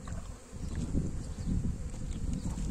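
Honey bees at an apiary hive drone in a steady, close, continuous buzz with no voices over it.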